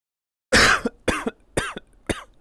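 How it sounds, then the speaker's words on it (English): Four separate coughs into an elbow, one sharp and loud, then three shorter, close to the microphone with brief pauses between them and no talking. "I tried to do the nice thing of coughing into my elbow, but I realized it just makes it louder."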